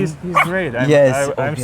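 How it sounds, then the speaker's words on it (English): A dog yips and whimpers close by in a short burst, with excited barking sounds mixed under people talking. "Sorry about the dog."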